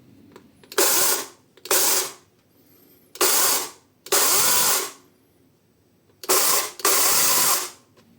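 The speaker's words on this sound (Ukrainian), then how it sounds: "Тепер можна запускати пилу." A LEADER 20V cordless chainsaw with a 10-inch bar revs in five short, loud bursts with quiet pauses between, each a harsh whirring roar starting and stopping abruptly.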